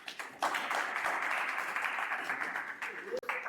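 Audience applauding a participant at a live show, a steady patter of clapping from a crowd, fairly soft and distant, with voices talking faintly underneath.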